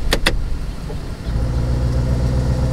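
Lamborghini Urus SUV running in Corsa mode, a steady loud low engine rumble close by, preceded by two quick sharp clicks at the start.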